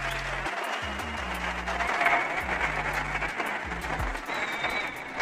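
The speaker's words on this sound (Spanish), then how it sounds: "Fuerte aplauso." An audience breaks into loud, sustained applause at a political and cultural talk event, a dense wash of clapping that carries on for several seconds.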